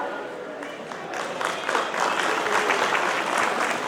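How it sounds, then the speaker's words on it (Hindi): An audience at an eye camp applauds steadily, the clapping swelling louder after the first second and continuing as a dense, sustained round. "बस अब जब तक है तालियां बजती रहनी चाहिए।"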